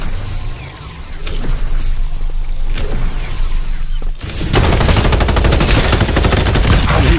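Rapid gunfire in the battle royale shooter Farlight 84: scattered shots and mechanical clatter at first, then a loud, dense burst of automatic fire through the second half, close and unbroken.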